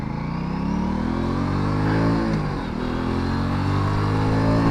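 Aprilia RS 457 motorcycle ridden in rain mode with traction control at level 3, its engine a loud continuous drone that rises in pitch while accelerating, dips briefly, then climbs again, close up with no talking.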